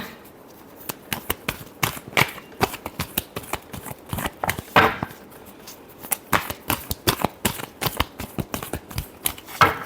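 Tarot cards are shuffled close by in quick, irregular bursts of crisp riffles and slaps, fairly quiet, with no one talking.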